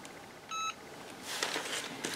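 A Cricut heat press gives a single short electronic beep right after its start button is pressed, followed by soft rustling and handling noises.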